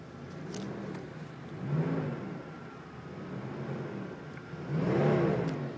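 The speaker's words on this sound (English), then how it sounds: "Let you listen to the engine." A 1995 Jeep Grand Cherokee Limited engine, automatic transmission, idles, then revs up a few times in short bursts, close by and with no talking.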